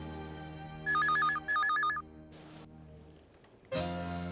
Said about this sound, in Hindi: फोन नहीं उठा रहा है